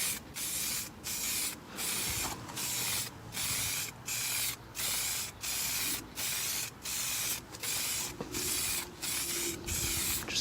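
A spray paint can lays a light coat of Kia Ebony Black touch-up paint in about a dozen evenly spaced hissing bursts, each roughly half a second long, close and with no talking.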